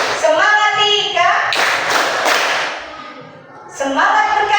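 Schoolchildren in a class clap a rhythmic cheer together, with bursts of sharp group claps between stretches of children chanting; the clapping is close and loud but is mixed with and partly masked by their voices.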